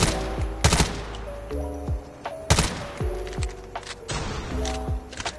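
The QQ9 submachine gun with a 10mm 30-round magazine fires in Call of Duty Mobile, loud sharp bursts of rapid shots in short groups separated by brief pauses, each ending with a ringing tail.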